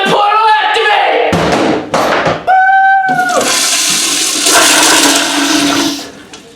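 A video game toilet portal flushes with a loud rushing, gurgling swirl of water, preceded by a few short tonal effects and thumps, then fading out at the end.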